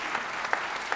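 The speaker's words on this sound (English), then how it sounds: "Let's give another round of applause." A crowd applauds at a swearing-in ceremony for a New York state senator, a short burst of steady, close clapping from a room full of people.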